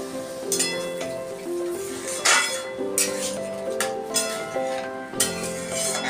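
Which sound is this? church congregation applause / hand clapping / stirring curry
stirring curry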